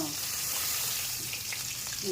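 Rohu fish frying in hot oil gives a steady, even sizzle that runs throughout, with faint scraping stir sounds and low background voices.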